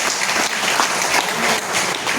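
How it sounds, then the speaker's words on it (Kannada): A crowded hall at a world Kannada conference in Goa breaks into dense, steady applause that goes on for the whole stretch with no talking. "ಮತ್ತೆ ಇಂಥ ಅವನೊಂದು ಸ್ಪೆಷಲ್ ಚಪ್ಪಾಳೆಯನ್ನು ಹೊಡೀರಿ"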